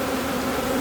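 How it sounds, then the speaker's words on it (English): Honey bees swarm around hives during robbing, with frames left hanging outside; a dense, loud, continuous buzzing drone from many insects fills the short stretch, with no voices. "You can hear the bees are going crazy."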